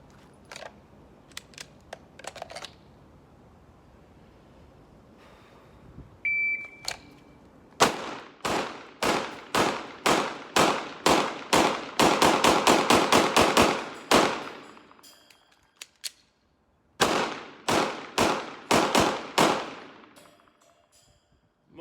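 Handgun shots on an outdoor range drill: a long, rapid string of loud, sharp reports with a brief pause for a magazine change, then another fast burst, with faint rustling and clicks before the firing begins.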